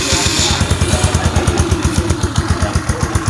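A Rusi 125 motorcycle engine converted to 150 cc runs close by with a steady, rapid, uneven idle putter and some mechanical clatter, heard alone throughout.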